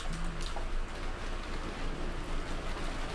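Steady rain against a window plays as ambient background in a visual novel game, a soft continuous hiss with a low rumbling bed and no distinct drops.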